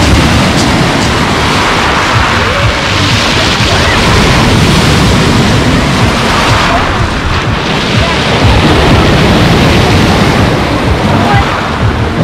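Sea waves crash and surge onto a beach at Lazarevskoye, a loud continuous roar of surf with wind buffeting the microphone throughout.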